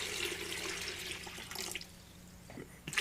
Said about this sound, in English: I got my SodaStream cup here. We'll pour some water in.